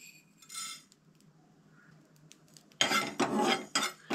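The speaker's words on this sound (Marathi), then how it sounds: "हांगसर न्हय आमी आता मेथयो ज्यो आसा न्हय ते भाजून घेवया" Fenugreek seeds are dry-roasted in a pan for a Goan pineapple sansav curry: a brief scrape early, then loud rattling, clattering stirring of seeds against metal in the last second and a half.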